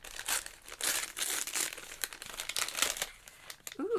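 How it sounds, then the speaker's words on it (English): Paper crinkles and tears steadily as wrapping comes off a Disney gift, a Toy Story present, in close, continuous bursts with brief pauses, ending with a short voiced sound. "let's get unwrapping"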